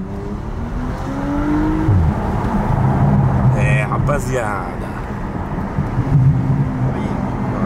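A Porsche Panamera with a modified exhaust, heard from inside the car, gives a loud, deep exhaust rumble with rising revs early on and again near the end, while people talk over it.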